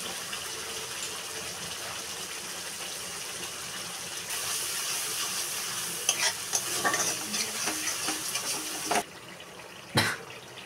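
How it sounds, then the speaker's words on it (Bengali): Spice paste with chilli, turmeric, coriander and cumin powders frying in a pan, a steady close sizzle with scraping stir strokes that grow busier midway, ending in a sharp clatter. "দিয়ে মশলাটাকে ভালোভাবে কষিয়ে নেব"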